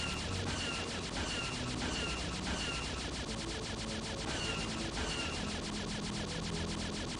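Rapid repeating blaster fire from a Star Wars Phantom Menace video game, a steady stream of quick electronic shots at constant loudness for several seconds with no talking over it.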